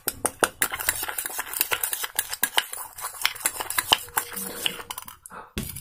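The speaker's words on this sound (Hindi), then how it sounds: "नमक डालने के बाद फिर आपको इसको अच्छी तरह से मिक्स कर लेना है।" A spoon clinks and scrapes rapidly against a bowl while salt is mixed in, a quick uneven rattle of close metallic taps that stops abruptly near the end.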